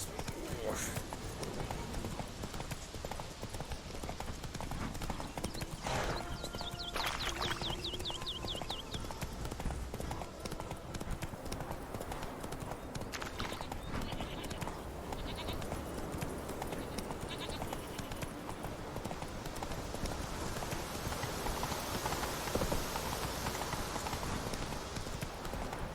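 Horse hooves gallop in The Witcher 3: Wild Hunt, a steady clip-clop rhythm running under dense game ambience and voices throughout.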